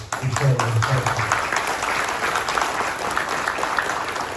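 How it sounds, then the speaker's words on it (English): Members at a Guam Chamber of Commerce general meeting in a hotel applauding their board, sustained clapping from a room-sized crowd with a voice briefly audible at the start. "that deserves a round of applause"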